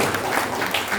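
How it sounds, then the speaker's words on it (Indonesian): Brief burst of audience applause in an indoor hall, a dense, even patter of many people clapping at once, loud and close, with no talking over it. "Tepuk tangan dulu"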